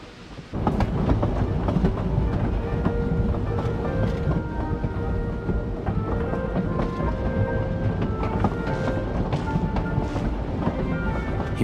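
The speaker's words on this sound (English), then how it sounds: "Welcome to Snezhnograd train station, the biggest transport hub in the nation." A train rumbles through Snezhnograd station in the game Genshin Impact, a loud continuous rolling drone with rhythmic rail clatter and squeal-like tones, no voices.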